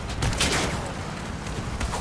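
Cannon shell fire in the vehicle combat game Crossout, a dense two-second stretch of booming shots and crackling impacts under continuous engine rumble, loud and close.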